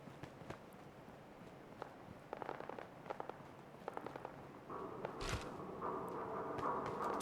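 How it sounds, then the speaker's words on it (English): Scattered sharp cracks of gunfire in Fallout 4, a few quick bursts and single pops at a distance, followed by a steadier background rumble and hum. "Oh, I hear gunfire."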